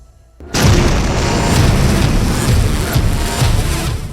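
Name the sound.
explosion from Israeli airstrike on Hezbollah camp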